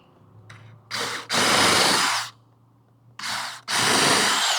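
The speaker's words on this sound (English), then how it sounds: "pre-drill some holes." A power drill pre-drills holes in wood for a small library build: two bursts, each a short rev followed by a longer loud grinding run through the timber, separated by quiet pauses.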